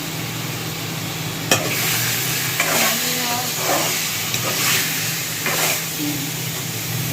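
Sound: frying and stirring spice masala in oil

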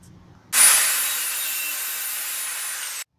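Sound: sawing a wooden piece

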